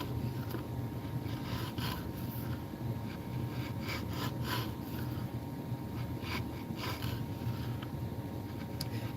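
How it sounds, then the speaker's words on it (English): Small-scale chisel work on a piece of wood makes a steady, continuous rasping scrape that runs close and evenly throughout, with no clear pauses. "this is some small time chisel work"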